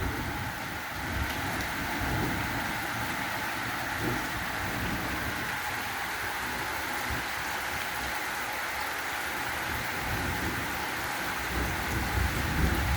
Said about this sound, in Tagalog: Lalakas ng kulog.